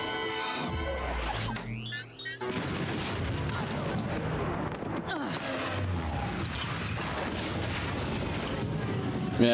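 An explosion in the animated Star Wars series The Bad Batch, a loud rumbling blast with crashing debris and continuing booms across the scene, mixed with a brief sweeping tone early on.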